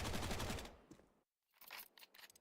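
SMG gunfire in a Counter-Strike match, a rapid burst of rattling automatic shots, then a short silence and a few scattered sharper shots, moderately loud with no talk.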